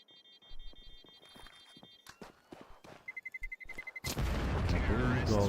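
Bomb going off in the video game Counter-Strike during a European Pro League match: a burst of scattered game clicks and beeps, then a sudden loud, sustained blast that fills the end.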